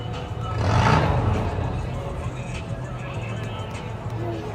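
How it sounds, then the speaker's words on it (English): A motorcycle passes near an outdoor quadball field, swelling in the first second and then fading under a steady wash of background noise. "Alright, for the record, that's a motorcycle going by."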